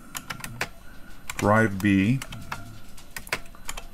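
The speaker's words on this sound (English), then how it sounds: "I'm typing around the camera mount here as always" Clicky keystrokes on a Kaypro-era computer keyboard while entering MS-DOS format commands, a fast irregular patter of sharp taps close to the mic, briefly under a man's spoken words in the middle.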